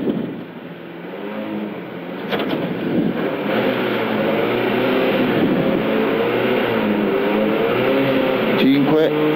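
A rally car at the start of the 2006 Ronde di Albenga drones steadily with its engine revving up, heard from inside the cabin while a voice talks over it throughout.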